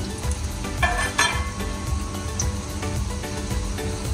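Yogurt and whole garam masala go into a hot pan for biryani, a steady close sizzle with a few clinks of utensil against metal and some stirring scrapes.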